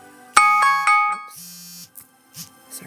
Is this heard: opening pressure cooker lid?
no